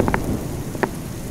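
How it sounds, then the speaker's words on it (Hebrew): Steady rain falling outside with a low rumbling undertone like thunder, a dense even hiss with a couple of brief louder drops near the start and middle. "יורד גשם בחוץ."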